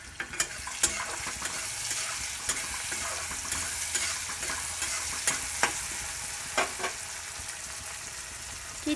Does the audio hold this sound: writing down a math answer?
no